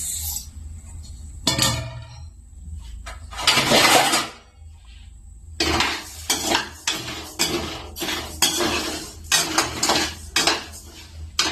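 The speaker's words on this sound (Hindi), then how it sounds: "तो ये रहा चावल, और ये रही कढ़ैया, इसी में डालेंगे और इसको चलाएंगे" Metal scraping and clanking of rice being stirred in a kadhai to make bhuja: irregular bursts of rattling and scraping, with a couple of longer pauses early on, then frequent rhythmic strokes close to the pan.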